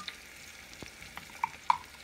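Chopped onions frying in a pan, a soft steady sizzle with a few brief crackles and pops near the end, close and with no voices.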